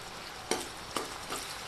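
Onions frying with ginger garlic paste and turmeric for a chicken curry, with a soft steady sizzle and three distinct stirring scrapes in quick succession.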